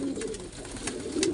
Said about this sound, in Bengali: পায়রাগুলোকে খেতে দিয়ে দিয়েছে, এইদিকে সব ঢুকে গেছে।